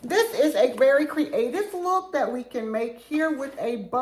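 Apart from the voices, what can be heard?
No everyday noises stand out.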